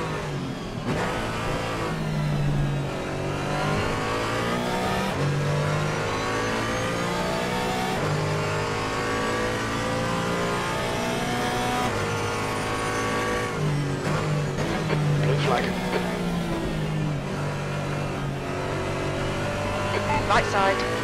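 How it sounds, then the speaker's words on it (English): GT3 race cars in a multi-class endurance race at the Nürburgring, their engines revving and shifting through sweeping tones as they pass continuously and loudly, with radio voices talking over the engine noise. "Faster car is approaching."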